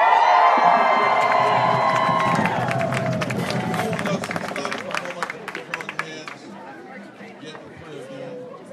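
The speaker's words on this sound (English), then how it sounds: "Let me hear you scream." A crowd at a community rally screams and cheers loudly, the roar fading over several seconds into scattered shouts, claps and chatter.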